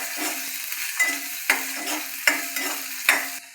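Cabbage and chillies stir-fried in a pan give a steady sizzle, broken by several sharp scraping strokes of a spatula that come in a loose rhythm, close and clear, with no voices.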